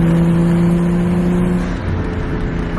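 Right-hand-drive Nissan Skyline R34 engine running with a loud, steady, close-up drone that holds throughout, with no talking.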